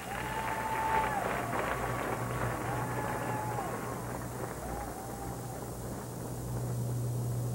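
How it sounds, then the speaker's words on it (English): A crowd at the 1992 US Open women's doubles final ceremony gives broad, hissing applause throughout, with an announcer's voice faintly over it. "give him a big round of applause for this great double final."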